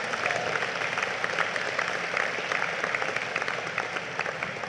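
Guests at a 50th anniversary dinner give a round of applause, a dense, even patter of many hands clapping together from start to finish at moderate loudness.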